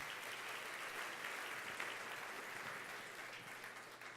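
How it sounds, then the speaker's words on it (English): Audience applause at a conference panel event, a steady, dense wash of many hands clapping continuously at moderate distance for the whole stretch, fairly faint and without voices. "Give them a round of applause, please."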